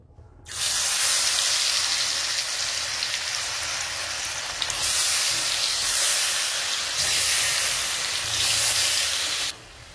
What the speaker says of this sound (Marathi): आता आपण ह्याच्यामध्ये वडीला बुडून तेलामध्ये सोडणार आहे